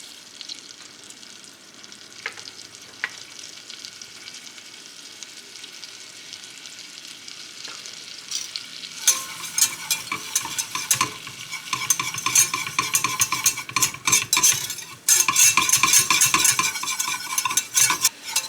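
A butter and flour roux being whisked in a pan on a reduced flame, quiet at first, then steady fast scraping and sizzling that grows louder and denser toward the end, with no voices.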